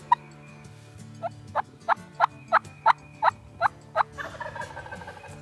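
A hand-operated turkey call imitating a hen's soft tree yelps: a series of about nine evenly spaced, nasal yelping notes rising in strength, followed by a quicker run of clucks at the end.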